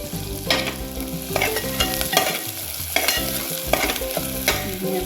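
Garlic-ginger masala paste fries in a pan for a Malvani black pea usal. Loud, close sizzling is broken by repeated stirring scrapes every second or so. No one speaks.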